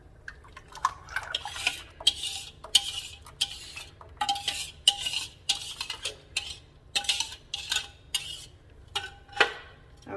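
Chocolate pie filling stirred in a cold heavy-bottomed pan, a close run of scraping and clinking utensil strokes against metal in an uneven rhythm, with soft wet sloshes between them and no talking.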